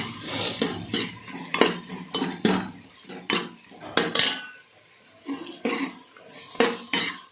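A metal spoon stirs ginger garlic paste in a cooking pan for aloo matar, making a rapid series of close scraping and clinking strokes with faint sizzling between them and no talking.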